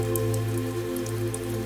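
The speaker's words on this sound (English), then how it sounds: "the rain returned as a soft whisper against the roof" Rain patters on a car roof during a night highway drive, with soft scattered drops over a steady low engine and road hum, close and continuous without talking.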